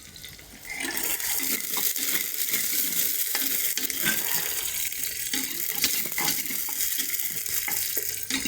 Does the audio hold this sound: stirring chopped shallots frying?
yes